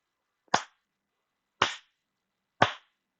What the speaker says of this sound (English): I don't know if you can hear that, but that's the sound of me clapping.